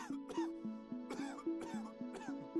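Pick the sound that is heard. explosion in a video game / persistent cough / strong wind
persistent cough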